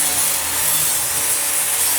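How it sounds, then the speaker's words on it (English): A grinder works a 1-inch metal piece to clean it before welding, giving a loud, close, continuous abrasive roar that holds steady throughout without speech. "I'm just gonna go up there and grind that"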